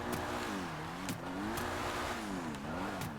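Pegassi Infernus Classic in GTA 5 Online revving hard with its wheels spinning while drifting, a steady wavering engine drone rising and falling, with a few brief sharp squeals and clicks over it, no talk.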